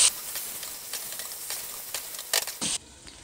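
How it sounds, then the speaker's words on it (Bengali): Marinated mutton frying with onions in a pan, a soft continuous sizzle with faint crackles and brief louder hissing bursts near the end, close by and fairly quiet. "সেই মাটনটা আমি দিয়ে দিলাম পেঁয়াজের ভেতরে। এবার এটাকেই আমাকে খুব ভালো করে কষাতে হবে একটু টাইম নিয়ে।"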